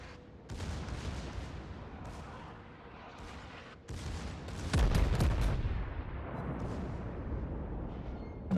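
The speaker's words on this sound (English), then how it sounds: "just look at all those secondaries fly" Secondary guns on the German battleship König Albert fire in World of Warships, a dense, roaring barrage of overlapping booms with a brief lull and then a heavier burst.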